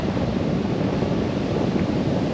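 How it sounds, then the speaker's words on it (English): A river in autumn woodland flows with a steady, loud broadband rush, continuous and close, with no voices over it. "And hear the river."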